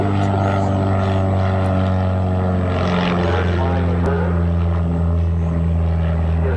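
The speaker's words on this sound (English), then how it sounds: "it's to learn how to recover the aircraft once it's fallen and spin like that" A propeller-driven aerobatic airplane drones loudly and continuously during a spin maneuver at an air show at Cranbrook Airport, its engine pitch shifting slightly as it turns, with a voice speaking over it.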